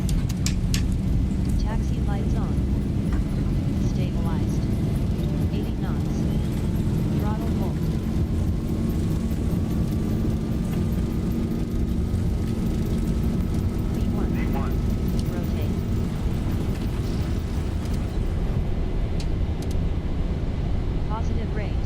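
Airliner jet engines held at takeoff thrust in a flight simulator, a steady loud roar with a faint rising whine running throughout, and no voices over it.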